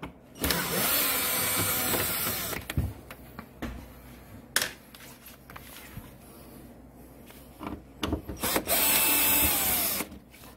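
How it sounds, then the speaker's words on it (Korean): Screws being undone on the body-cover guide rail of a Victoria Nicky 125 scooter, with continuous loud whirring from a power driver in long stretches, broken by short bursts and clicks between runs. "방금 제가 이 가이드 라인에 나사 두 개를 이렇게 풀었죠, 양쪽으로"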